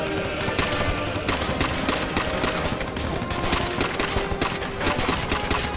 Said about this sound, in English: Too much fire, too much gunfire. What is shooting?